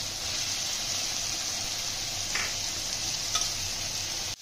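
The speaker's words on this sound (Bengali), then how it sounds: "মশলাটা ভালোভাবে কষিয়ে নেব।" A spice masala of softened onion, cumin powder, turmeric powder and tomato frying in a pan while being stirred for a prawn curry, giving a constant close sizzle with a couple of faint scrapes.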